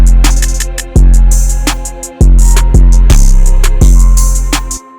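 An unmixed, default-level programmed drum pattern in FL Studio plays loud and alone, with booming 808-style kicks hitting about four times under rapid crisp hi-hats.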